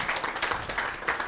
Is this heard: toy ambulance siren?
no